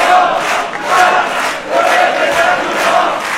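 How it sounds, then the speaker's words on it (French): A crowd at a political meeting calling for the lifting of the state of emergency cheers and applauds loudly, with rhythmic surges of voices and clapping that rise and fall in waves. "Je vous propose d'approuver cet appel par acclamation en l'applaudissant."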